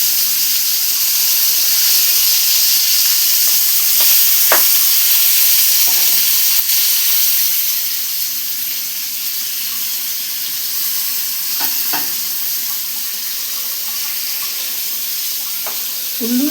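Loud, steady sizzling of mutton frying in hot oil, with occasional soft clinks and stirring sounds close by.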